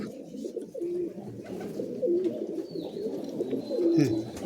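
Giribaz pigeons, including a red-tailed one, give low, soft repeated coos close by, several calls over a murmuring background.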